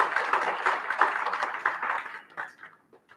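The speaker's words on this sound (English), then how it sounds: "I want to give you a huge round of applause for that" Audience applause at an ANC build-up event to the January 8th celebrations, a dense burst of clapping that thins out and dies away over about three seconds.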